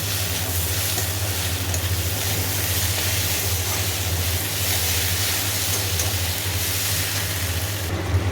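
Onion and poppy seed paste fries in a pan with a steady, even sizzle that holds close and constant throughout, with no talking.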